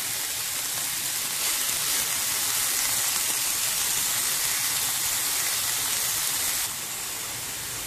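Shredded cabbage sautéing in a pan for an egg omelette, a steady, close sizzling hiss that runs without a break and drops slightly near the end.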